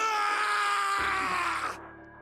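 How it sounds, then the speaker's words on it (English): A drawn-out, anguished scream from the video game 999 in an incineration chamber, sustained and loud with a shift partway through before it cuts off into quiet. "The scream echoed through the incineration chamber, full of rage and despair."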